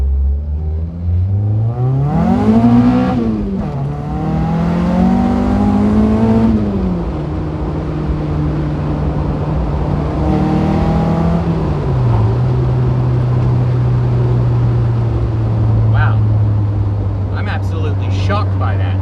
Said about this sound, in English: Some more gravel here. Oh yeah, that all-wheel drive is working amazing.